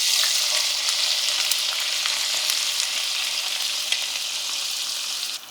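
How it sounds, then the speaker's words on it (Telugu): Onions frying in hot oil for a Telugu tomato curry give a loud, steady, dense sizzle that holds evenly throughout with faint scattered crackles, no voices. "నేను ఇమ్మీడియట్గా ఉల్లిపాయ వేస్తున్నాను అండి"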